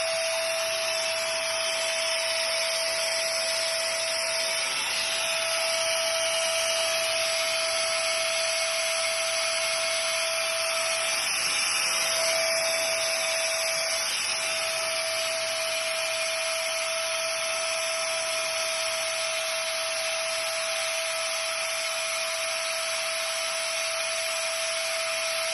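A homemade seed cleaning machine runs with a loud, steady vacuum-like whine and an unbroken high mechanical hum, holding constant from start to finish.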